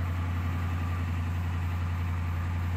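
A 2014 Dodge Ram 1500 engine idles steadily just after a jump start, a constant low rumble with a strong hum, close and unbroken with no talk.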